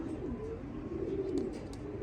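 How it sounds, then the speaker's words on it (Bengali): Pair of teddy pigeons cooing steadily, a low rounded murmur close by against soft background noise, with no talking. "এই যে এক পেয়ার রানিং টেডি কবুতর"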